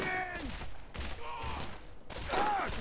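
Pistol gunfire in the Borderlands video game, a few spaced shots ringing out over game sounds and effects, fairly loud and close.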